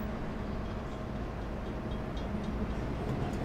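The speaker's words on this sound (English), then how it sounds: "fortunately, a train runs through it" A train rumbles steadily through the wine country near Adelaide, South Australia, with low continuous rolling noise and faint squeals over the drone.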